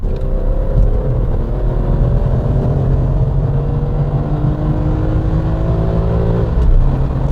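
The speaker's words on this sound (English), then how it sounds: "you roll down that window and you rev the RPMs to the sky" A BMW M3 E46 engine revs hard, a loud, continuous droning whine with rising and falling pitch as it pulls through the range, heard from inside with no talking.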